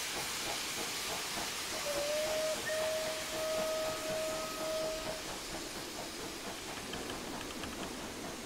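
A Merchant Navy class steam locomotive, Clan Line, in Train Simulator 2020 on the Paignton to Kingswear line blows off steam in a continuous loud hiss, with a faint whistle tone for a few seconds in the middle.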